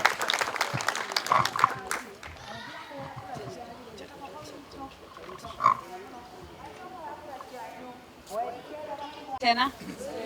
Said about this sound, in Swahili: Tumpigeni makofi tafadhali.